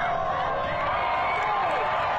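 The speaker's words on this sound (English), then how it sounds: "Now, to most of us, a football game sounds like this." Crowd at a high school football game: a dense, continuous roar of many voices and cheering, fairly distant and steady throughout with no clear individual words.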